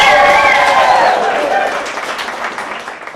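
Loud applause and cheering from a science slam crowd, with a high whoop or whistle at the start. The clapping is strongest early and gradually tapers off.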